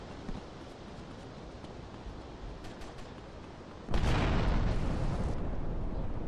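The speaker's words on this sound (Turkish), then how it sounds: "Araba patladı." A car blows up in the video game GTA Liberty City. The low background noise of the game breaks into a sudden, loud, rumbling blast about two-thirds of the way through, and the roar holds until the end.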